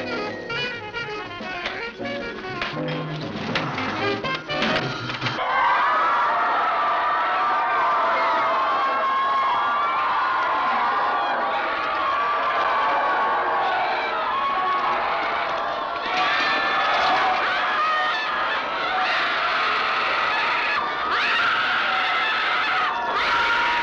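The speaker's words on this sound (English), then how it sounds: "The collective hysteria of this crowd, their writhing and screaming in this deconsecrated church in the Cilente region of southern Italy" A crowd screaming and writhing in a deconsecrated church in the Cilento region of southern Italy: sustained, dense, loud mass of shrieking and wailing voices that swells and continues without pause.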